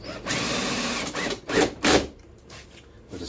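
A power driver sinks spec screws into aluminium stair nosing on a kite winder stair, with a steady whirring run followed by two short bursts as the screws seat, close and loud.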